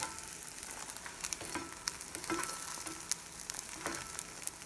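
Egg mixture for pork fried rice sizzling in a hot pan, a steady frying hiss broken by light scraping and stirring taps, close by and with no talking.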